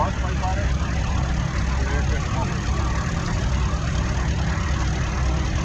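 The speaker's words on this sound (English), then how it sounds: "Next we've got a case of 400 coming through next." A Case 400 tractor rolling past in a thresheree parade, its engine a steady, rumbling idle heard at moderate distance under a loudspeaker announcer's voice.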